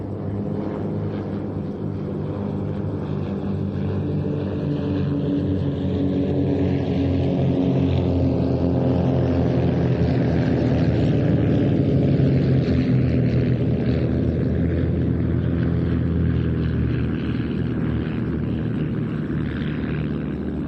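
Team Raven aerobatic propeller planes flying the Twizzles manoeuvre at an airshow in Leszno, a loud continuous engine drone with shifting pitch that swells and fades over about twenty seconds, with no talk.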